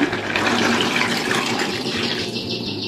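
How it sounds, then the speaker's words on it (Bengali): Water pours in a continuous, close stream into a pot of fried chicken to make curry gravy, and the tone of the splashing shifts slightly as the pot fills. "আমি এবার ঝোলের জন্য জল দিয়ে দিলাম"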